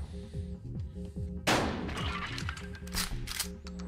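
In the video game Buckshot Roulette, a shotgun fires at the dealer with one loud, sharp blast that crashes in mid-clip over a pulsing, rhythmic game soundtrack, followed by a few crackling, clattering bursts as the music continues.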